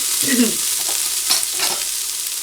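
Chopped carrots and onions sizzle in a hot pan while being stirred, a soft, close frying hiss with brief scraping stir sounds.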